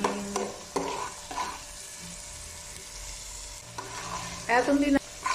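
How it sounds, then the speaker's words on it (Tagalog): Chopped onion goes into a hot pan and sizzles steadily, with a few sharp bursts of scraping and stirring, close up and without any talking. "Ngayon ilagay ko na ang sibuyas."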